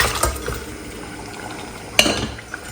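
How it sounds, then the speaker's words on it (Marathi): Mutton tipped into a pan of fried masala, a couple of brief wet plops and a clatter against the pan over a quiet, low hiss. "आणि आता हे जे मटण आहे यामध्ये टाकणार आहोत आपण."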